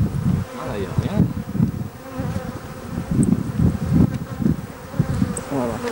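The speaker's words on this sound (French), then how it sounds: "Alors là, il y a une masse d'abeilles" Loud, dense buzzing of many honeybees close by at an open hive during a beekeeping inspection, a continuous droning hum with fluctuating swells.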